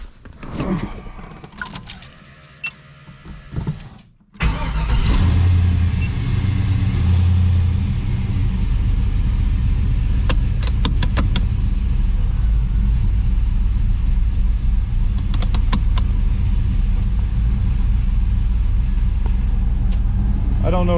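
Pontiac GTO engine cranking and firing up after belt work, settling into a loud steady rumbling idle with faint ticking noises on top, preceded by brief clunks.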